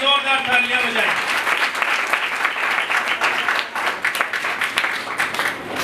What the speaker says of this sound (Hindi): के लिए जोरदार तालियां बजाएं।